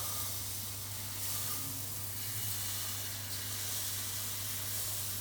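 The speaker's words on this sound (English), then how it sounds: "It must have that sizzle, it's got to be really hot" Steady, quiet sizzling hiss of batter hitting hot oil, continuous with a low hum underneath and no voices.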